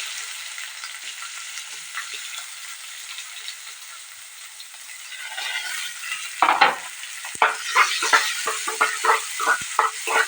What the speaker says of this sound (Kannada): ಈರುಳ್ಳಿ ಹಾಕೊಂಡು ಇವಾಗ ಚೆನ್ನಾಗಿ ಫ್ರೈ ಮಾಡ್ಕೊಳ್ತಾ ಇದ್ದೀನಿ